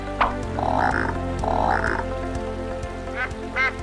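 Croaking frog calls sound in short rhythmic bursts over a low, steady background hum, fairly close and clear.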